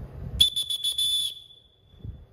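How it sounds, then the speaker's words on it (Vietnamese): A 5-in-1 LED light blows its built-in whistle in one shrill, warbling piercing tone lasting about a second, close and clear, with faint murmuring before and after. "nó có chức năng thổi còi luôn nhá, để gọi đồng đội"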